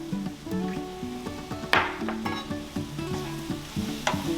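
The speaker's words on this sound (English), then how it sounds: "Okay, I'm gonna stir that up." Flour-coated mushrooms stirred in a pan, a steady scraping and light sizzle running continuously over background music, with a sharper clatter near the middle.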